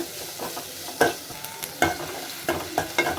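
Chopped onions frying in a pan for a quick homemade dish, with steady crackling sizzle and several sharp stirring scrapes at irregular intervals, close and fairly loud, no voices.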